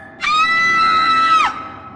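A woman's sustained, high-pitched scream of horror in a spoken horror story, one loud cry lasting over a second that ends with a falling pitch, standing alone over faint background.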